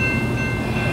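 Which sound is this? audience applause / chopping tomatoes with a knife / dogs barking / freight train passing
freight train passing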